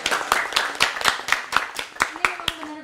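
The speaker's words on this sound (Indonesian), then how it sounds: "tepuk tangan dulu sekali ya Kak" Scattered handclaps from a small audience at a university graduation ceremony, a dozen or so distinct claps in an uneven rhythm, close and moderately loud, with a voice briefly audible near the end.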